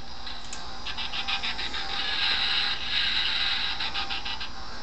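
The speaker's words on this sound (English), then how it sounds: "Or you can pull back the big red switch." Optimus Prime toy from Transformers Dark of the Moon, its big red switch pulled back, giving a steady electronic buzzing and whirring effect with rapid pulsing clicks, fairly quiet and heard alone.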